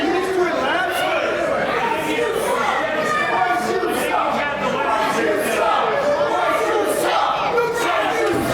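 A crowd at a live wrestling show chants in rhythmic waves, loud and dense, with a split house of fans shouting and cheering alongside steady chatter.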